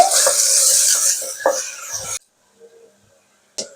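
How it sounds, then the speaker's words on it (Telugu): Onions hitting hot oil give a bright, hissing sizzle for about two seconds, with a few scraping stirs, while cooking mutton gongura; then the sound stops abruptly, leaving near-silence and one last brief clatter. "ఆయిల్ వేడెక్కిందండి ఆనియన్స్ వేస్తున్నాను ఆయిల్లోనే వేయించుకోవాలి"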